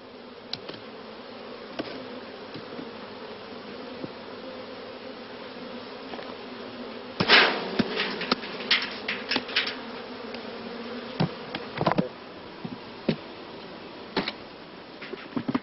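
Honey bees buzzing steadily in swarm boxes after infested colonies are shaken in, a dense continuous hum with sharp close individual buzzes and knocks flaring up in the second half.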